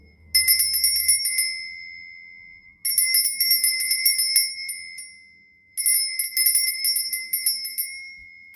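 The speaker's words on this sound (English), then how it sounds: "I am going to be ringing one of these lovely bells up here" Small handheld bells ring out in three separate bursts, each a bright flurry of rapid strikes that shimmers and fades before the next begins, clear and close with no talking, used to cleanse a space.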